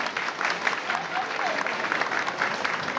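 Steady, dense applause from a village gathering in Şavşat's Çoraklı, greeting the association's president, filling the whole stretch at an even level with no break.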